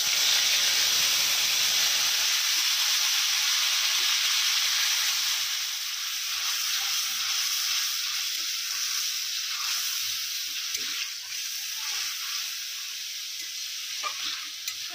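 A ground onion and tomato paste is dropped into hot oil already tempered with cumin seeds. It bursts into a loud, hissing sizzle, then settles into a steady spitting fry with small pops, with no voices.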